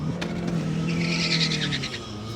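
A Fiat 500 Abarth runs an autocross course, its engine droning steadily with brief tire squeal as it passes fairly close, heard from the vicinity of another competitor's car.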